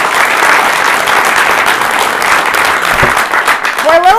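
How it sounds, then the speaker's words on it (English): An audience at a civic gathering breaks into sustained, loud applause, with a voice starting to speak near the end. "I think that deserves a round of applause."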